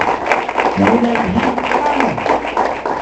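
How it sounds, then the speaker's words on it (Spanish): A church congregation applauds during a sermon, steady clapping running throughout while a voice speaks over it. "Denle un aplauso al Señor, que no se quede así como..."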